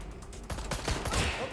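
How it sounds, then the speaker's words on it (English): Gunfire in Watch Dogs: Legion, a burst of several rapid shots and a loud rattling volley in the game's close combat, standing over a steady background rumble. "Who's shooting at me?"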